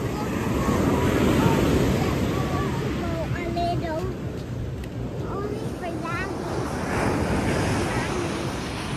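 Ocean surf rolls in at Puka Beach in Boracay, a broad steady wash of waves mixed with wind buffeting the microphone, while children and adults chat nearby.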